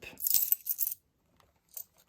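A handful of euro coins clink and rattle as they drop into a container, a busy burst of metallic jingling, then a brief second clatter after a pause.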